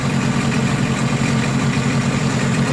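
A small engine idling steadily right after starting on the first pull without choke, smoking heavily, a constant close, loud low drone with no speech.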